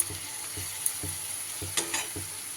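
Potatoes and peas cook with spices in a pan for a vegetarian broccoli dish, giving a continuous sizzle cut by regular scraping stirs of a spatula about every half second, close with no talk.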